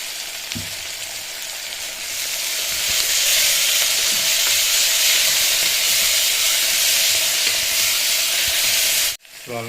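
Onions salted with rock salt and fenugreek leaves fry in a pan for a chicken curry, giving a loud, steady sizzle and hiss that swells and holds, then cuts off briefly near the end.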